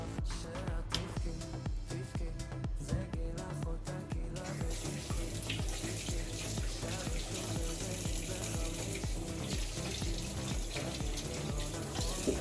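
Tap water runs steadily into a kitchen sink while a sweet potato is rinsed under it, a continuous close splashing stream with faint clatter underneath and no speech.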